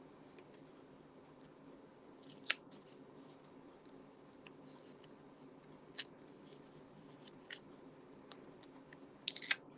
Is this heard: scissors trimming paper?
yes